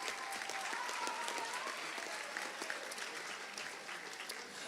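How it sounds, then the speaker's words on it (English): Steady applause from an audience at a middle school awards ceremony, a dense, even clatter of clapping hands filling the room for several seconds, with a faint voice or two mixed in. "round of applause"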